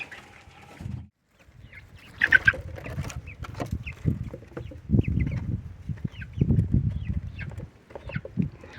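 Chickens near a backyard coop at high elevation cluck and murmur in bursts, fairly close, with a few sharper calls. Their footsteps patter softly between the clucks.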